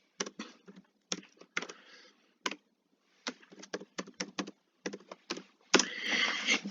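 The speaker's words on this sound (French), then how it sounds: "le clavier a du mal à suivre" Bursts of rapid key clicks from a computer keyboard, typed close up in irregular clusters with short pauses between them.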